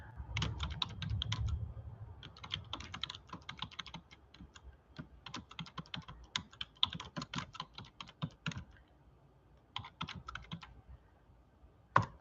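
Typing on a computer keyboard, close-up key clicks in irregular bursts and flurries with short pauses between, alone with no talking.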